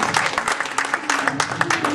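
Worshippers at a Paris church vigil clap during a crowning, a short stretch of loud, close applause with a rough, rhythmic pulse and some voices mixed in.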